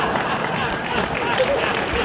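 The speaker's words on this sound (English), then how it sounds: "Are you clapping now?" A theatre audience claps and murmurs in a steady, dense wash of applause mixed with crowd babble at a comedy show, holding for about two seconds with no clear break.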